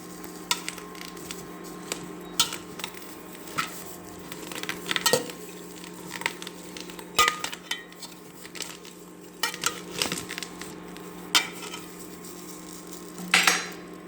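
Bathua greens tossed with salt in a cooking pot, a string of metal spoon clinks and scrapes against the pot in irregular bursts over a faint background hum, with no speech.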